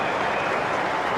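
Expectant cricket stadium crowd during a match as a batsman nears his century, a steady broad roar of many voices and murmurs filling the air, continuous and fairly loud without a break.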